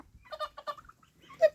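Chickens and guinea fowl cluck in short, close bursts outdoors near a chicken coop, with brief pauses between calls and one sharper squawk at the end.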